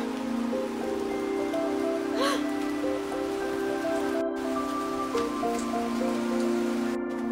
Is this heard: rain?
yes